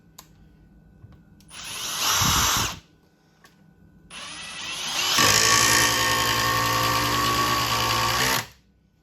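A Milwaukee M18 Surge impact driver drives a 4.5-inch screw in two close bursts: a short run, a brief pause, then a longer, steadier whirring stretch before it stops.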